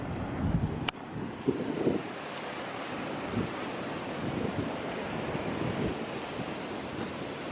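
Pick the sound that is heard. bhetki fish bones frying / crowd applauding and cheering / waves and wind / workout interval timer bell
waves and wind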